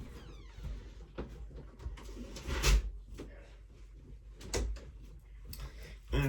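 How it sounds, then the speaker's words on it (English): A door shuts indoors with a few knocks and clunks of handling, ending in a firm close, amid faint room noise. "I'm gonna close the door because someone got here"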